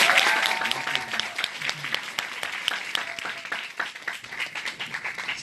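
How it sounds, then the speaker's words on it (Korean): Applause from a seminar audience after a business lecture, dense overlapping clapping that stays loud and steady throughout, thinning slightly toward the end. "다시 한번 큰 박수 부탁드립니다"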